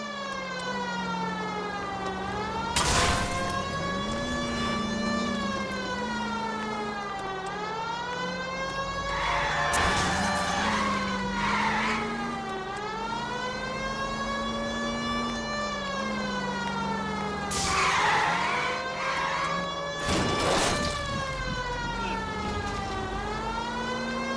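Police car chase in the video game L.A. Noire: a wailing siren sweeps up and down continuously, broken by several loud broadband bursts that may be tire skids or impacts, with engine noise underneath.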